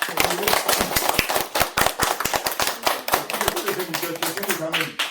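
A congregation at a Korean family retreat evening worship service claps in thanks, giving sharp, uneven claps close by that run for several seconds, with a voice speaking over them.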